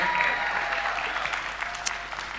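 A crowd applauds steadily, a dense wash of clapping that stays even throughout, with a few sharper claps near the end.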